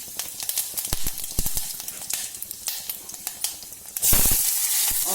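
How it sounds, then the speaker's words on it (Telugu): Tempering spices and a red chilli crackling in hot oil in a kadai, with dense popping and spattering that swells into a loud rushing hiss in the final second. "ఫస్ట్ బాండి పెట్టుకుని ఆయిల్ వేసి దానిలో పోపు దినుసులు వేయాలి"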